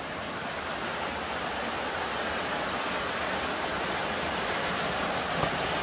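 A mountain valley stream rushes steadily over rocks, giving a constant, full, hissing flow that never lets up and carries no voices.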